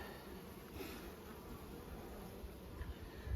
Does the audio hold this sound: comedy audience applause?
no